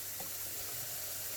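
Water poured from a tap into a pot for potato soup with brown mushrooms, a steady close hissing gush lasting the whole moment, no talk.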